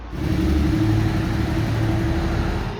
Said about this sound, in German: Auf der Handykamera ist der Ton nur ja, stark unter Straßenlärm verborgen.